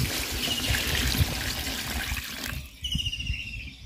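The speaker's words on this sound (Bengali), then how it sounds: "জলের পানি দিয়ে দিলাম।" Water poured into a pot of potato and spice curry, a steady trickling, splashing wash that runs for about two and a half seconds before stopping, with birdsong chirping faintly in the background afterward.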